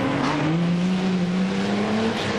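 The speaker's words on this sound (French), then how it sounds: "Bronson qui pilote une HWM Jaguar, une magnifique voiture anglaise" An HWM Jaguar, a British historic race car, speeds past at the Monaco Historic Grand Prix in 2000, giving a steady high engine note that climbs slightly in pitch across a short burst of track noise.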